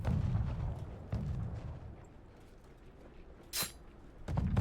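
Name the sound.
mortar shelling in the video game Conqueror's Blade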